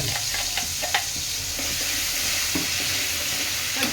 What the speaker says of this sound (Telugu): మసాలా ఫ్రై కావాలి కొంచెం